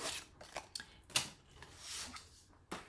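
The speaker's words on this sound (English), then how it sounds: "So I'm going to attempt to fussy cut this one" Scissors fussy-cut around a paper piece for a hand cream box: a quiet series of short, crisp snips at an uneven pace, with no talking.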